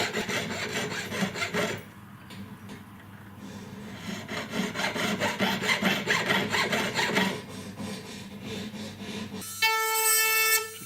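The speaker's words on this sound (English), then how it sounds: "now I'll firm those markings up with my saw blade" Small jeweller's saw blade rasping against the metal of a stone-set huggie earring, a steady scratchy scoring stroke repeated close-up for several seconds before a brief sharper tone near the end.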